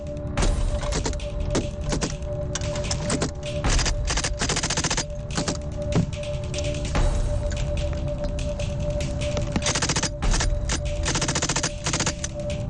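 Dense, sustained gunfire with rapid bursts and sharp shots crackling continuously throughout, loud and close, with no voices.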